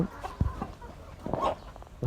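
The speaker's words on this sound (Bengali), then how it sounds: "এগুলো হচ্ছে আমার ফার্মি মুরগি" Farm broiler hens cluck close by in short, uneven bursts, with faint background murmur beneath them.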